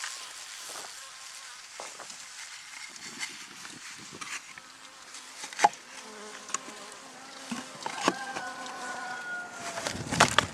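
Honeybees hum and buzz around hives in an apiary, a close, fluctuating drone with individual bees passing near the listener and a few sharper bumps and knocks, no talk.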